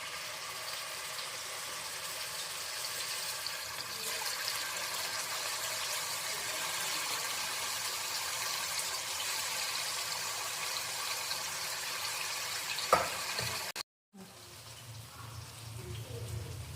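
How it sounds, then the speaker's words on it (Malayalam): Marinated chicken pieces frying in hot oil for Afghani chicken, a steady soft sizzle and crackle running throughout, briefly cut off near the end before resuming quieter. "മാരിനേഷൻ ചെയ്തില്ലേ അത് ചൂടുള്ള എണ്ണയിൽ ജസ്റ്റ് ഒന്ന് ഫ്രൈ ചെയ്തെടുക്കാം"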